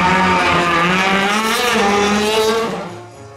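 A loud DTM race car engine screams at high revs, its whine shifting in pitch before fading at the end.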